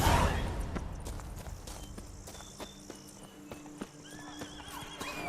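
A horse in The Witcher 3 clip-clops with quick, evenly spaced hoofbeats and whinnies, accompanied by crickets and insects chirping in the background.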